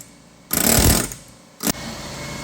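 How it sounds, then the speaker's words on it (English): Air hammer used during truck repair: a loud rapid burst of hammering pulses lasting about half a second, a pause, then a second short burst, close by with no talking. "Air hammer?"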